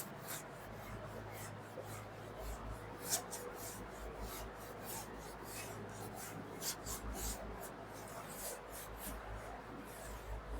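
Writing rubbed out on a board during a class 12 matrix lesson, heard as steady repeated scrubbing strokes, close and moderately loud, continuing rhythmically without talk.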